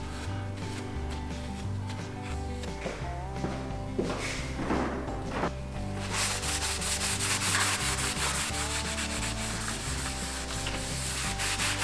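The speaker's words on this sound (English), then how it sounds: "start hand sanding the scales" Steady hand sanding of wooden knife handle scales, rhythmic rubbing strokes of abrasive on wood, continuous and close, with a few light knocks in between.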